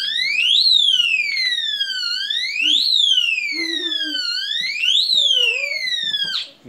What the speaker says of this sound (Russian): покажи теперь, как у нас сигнализация сработает